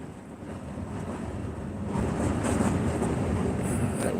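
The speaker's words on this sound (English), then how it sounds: "that wind is whipping." Strong wind whips outdoors, a loud steady rushing roar buffeting the microphone that swells and grows heavier about halfway through, with no voices.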